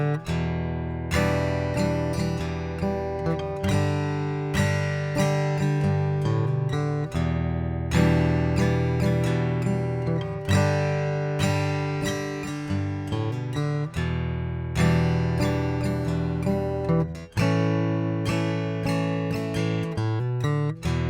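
A Taylor 214CE Plus Ziricote special edition acoustic guitar heard through its onboard preamp, strummed in a steady chord progression with ringing sustained notes and occasional pauses between phrases, clear and full with no voices.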